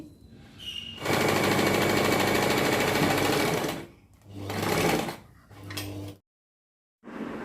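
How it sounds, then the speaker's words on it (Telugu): Sewing machine stitching along the edge of a Peter Pan collar, a loud close motor whir in bursts of several seconds, then shorter runs with brief pauses and squeaky stops, one stretch of silence. "దీనికి ఈడ ఈ అంచు వెంబడి స్టిచ్ వేసేద్దాం ఇక్కడ ఒక స్టిచ్ వేసేయండి"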